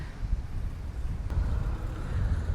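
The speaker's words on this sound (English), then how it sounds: "it is very windy today" Strong wind at a seaside bay in Puerto Pollensa in May buffets the microphone with a constant low roar and gusty swells, and no one speaks.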